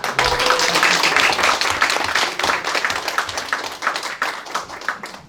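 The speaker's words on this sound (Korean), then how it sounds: "우리 다 함께 홍석환 교수님 나오실 때 뜨거운 박수로 환영하겠습니다" Audience clapping to welcome a professor at an international symposium on the Yangsan clawed salamander, loud, dense rapid hand claps from a nearby crowd that gradually thin and soften toward the end.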